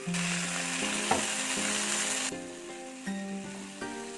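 Chicken frying in a pan as it is stirred, a bright sizzle with scraping and clinks that drops abruptly to a quieter simmer with a few soft knocks of the utensil.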